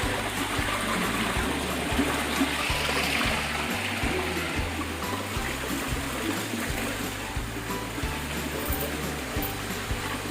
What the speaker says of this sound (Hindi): ये प्राकृतिक झरना है।